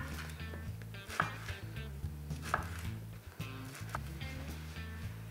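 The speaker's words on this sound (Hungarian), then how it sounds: "Szép karikákra felvágom a kiflit." A knife cutting through crescent bread rolls (kifli) into rings on a board, a faint series of irregular crisp chops and thuds, close up with no talking.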